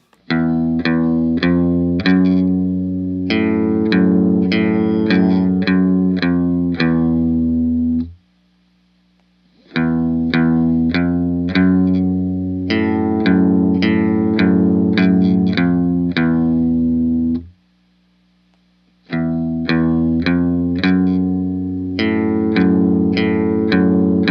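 An electric guitar with a chorus effect plays the intro riff of a song slowly, looping it three times with short silent pauses between passes.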